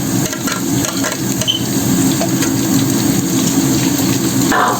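Chopped onion and garlic fry in a hot pan with whole cloves and cinnamon, a dense, steady sizzle heard close up with occasional stirring and a brief louder hiss near the end.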